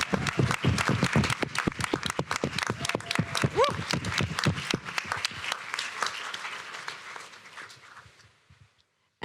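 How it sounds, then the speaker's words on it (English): Enthusiastic applause from an audience at a startup pitch competition, dense clapping that holds steady for several seconds before fading out near the end. "could we give them a round of applause?"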